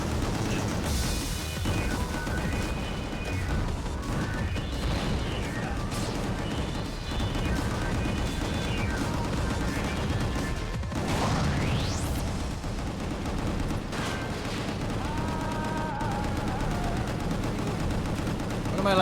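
Dense, continuous gunfire from the Fury mode of the video game Gungrave G.O.R.E, with rapid bursts, crashes and explosions layered over one another, loud and relentless, while a voice talks over the din.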